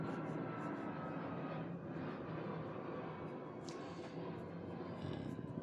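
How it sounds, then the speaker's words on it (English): Airplanes pass low over a house, a faint continuous roar rumbling in the background without break, with no voices. "And those planes are driving me crazy."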